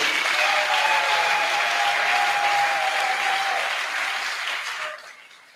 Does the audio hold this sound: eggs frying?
no